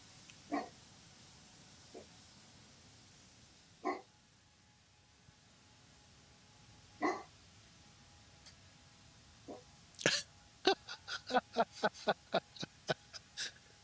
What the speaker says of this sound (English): we may get a lot of barking in the background from the ferocious dog in the house